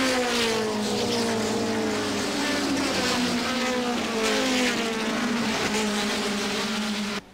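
Race cars, including a Starion A183A and Skyline DR30, roar past at the All Japan Touring Car Championship at Sportsland SUGO, engines loud and droning with rising and falling pitch, continuous and close.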